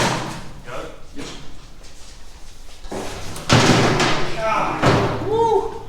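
A heavy Jeep door being lifted off lands with a couple of dull, solid thuds close by, while people talk and grunt around the effort.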